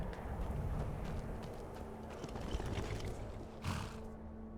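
Horse hooves clip-clop in a steady, fairly quick rhythm as a horse is ridden in modded Skyrim, over a constant low background rumble.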